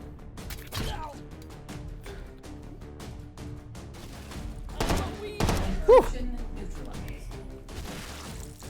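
Pistol shots in a video game, a run of sharp cracks and thuds repeating at an uneven pace over a busy game soundtrack, with a few louder bursts standing out.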